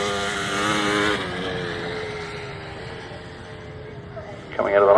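Grasstrack racing motorcycles roar loudly at a race meeting, engines droning and then fading before another bike revs up close at the end, with a commentator talking over them.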